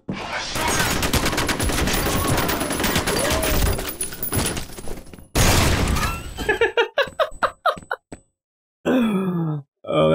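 Loud, dense rapid gunfire from a gun in FEAR fills the first five seconds, then breaks into separate sharp bursts and single shots with short silences between them, mixed with grunts.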